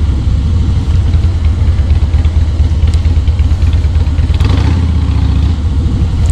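A car engine rumbles and revs steadily nearby, a loud, continuous mid-pitched drone with slight surges and no talking.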